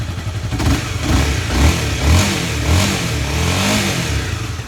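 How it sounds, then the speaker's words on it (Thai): A Honda CBR250 motorcycle idles and revs up close, its engine and exhaust rising in throaty surges and falling back, loud and continuous with mechanical clatter. "เดี๋ยวลองมาฟังเสียงเครื่องเสียงท่อดูนะครับ"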